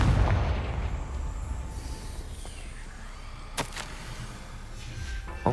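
A Confringo fire spell in Hogwarts Legacy bursts with a heavy booming blast that rolls away into a fading rumble, followed by a sharp crack a few seconds later.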